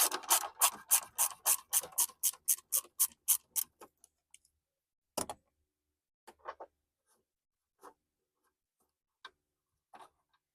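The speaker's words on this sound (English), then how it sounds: "you can use a ratchet, or if you have one of those screwdriver ratchets as well" Ratchet clicking rapidly while undoing screws on a Nissan Quest brake light assembly, a fast burst of ticks for about four seconds, then sparse single clicks and small knocks with pauses between them.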